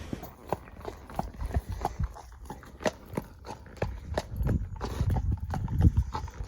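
A horse being ridden out near a field, its hooves clip-clopping in a steady, close rhythm that quickens slightly toward the end, with light rustling between strides.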